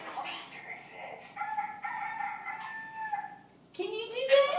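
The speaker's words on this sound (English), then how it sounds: "What does a rooster say?" A rooster crows, a drawn-out cock-a-doodle-doo with wavering tones, followed after a short pause by another rising call, fairly close and alone without talk.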